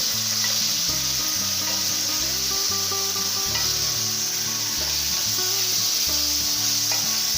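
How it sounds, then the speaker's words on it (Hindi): Half a kilo of chicken keema frying in a pan, a constant loud sizzle with rhythmic scraping and rubbing of a spatula stirring the mince, a droning hum beneath. "चिकन का आधा किलो कीमा है। इसे हम अच्छी तरह भून लेंगे।"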